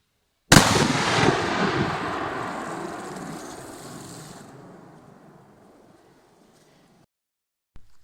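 One sharp, heavy blast of a PS3 Shark firecracker exploding in water rings out, then a long rumbling, splashing decay fades away over several seconds, with a faint click at the end.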